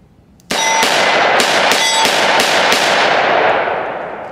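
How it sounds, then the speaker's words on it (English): A Taurus 692 Tracker .357 revolver fired rapidly in double action at a shooting range, about seven loud, sharp reports in quick succession, close up, with ringing decay trailing after the last shot. "Just rapid fire. Not from a single action, though, double action."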